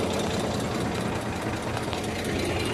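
A tractor engine idles steadily beside a water tanker on a farm, a dense continuous rumble that holds at a constant level throughout with no speech.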